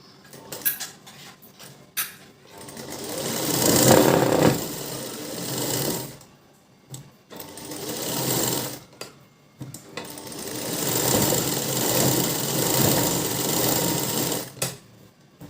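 A sewing machine stitches a blouse lining for a double katori-style blouse with puffed sleeves, running in several loud bursts of steady whirring separated by brief pauses, with no talking.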